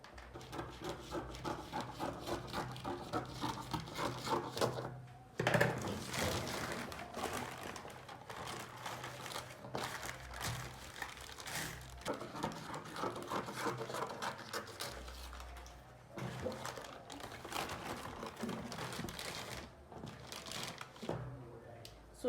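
Scissors cut through a paper dart pattern for a shoulder dart, with soft repeated snips, rustling and crinkling paper handled close by, fairly quiet and continuous.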